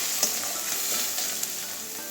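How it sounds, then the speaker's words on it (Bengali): Chopped onion frying in hot oil until browned, for a cauliflower, potato and mushroom curry: a steady, close, dense sizzle that carries on unbroken, with a couple of faint stirring clicks. "লাল কালার হওয়া পর্যন্ত বাদামি কালার হওয়া পর্যন্ত পেঁয়াজটা ভাজবো"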